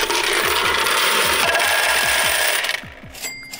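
Coins clatter steadily out of an arcade machine's coin catcher, a loud run of metallic chinks and clicks that ends in a few final clinks.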